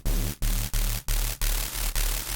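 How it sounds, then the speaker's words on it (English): A drum-and-bass square-wave bass synthesized in Vital, frequency-modulated with white noise, plays in five loud, gritty, buzzing sustained notes separated by short gaps, with a harsh hissy noise texture over a deep droning fundamental. "then we're going to modulate in some white noise into the square wave"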